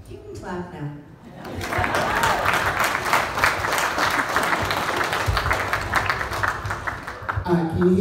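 Audience applause at a Dream Warriors horror convention panel in Indianapolis, a dense burst of clapping swelling in and sustained for several seconds, with a voice talking briefly before and after.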